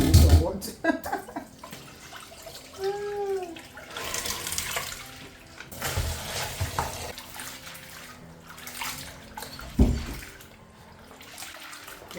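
Soaked okra being washed in water by hand, with splashing and sloshing that rises and falls through the clip, plus a few clattering knocks, while a voice talks briefly near the start.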